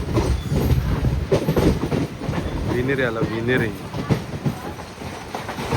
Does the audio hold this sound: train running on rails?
yes